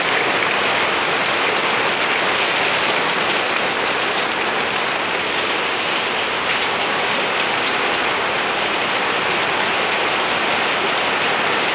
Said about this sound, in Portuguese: E aqui está um pouco da chuva.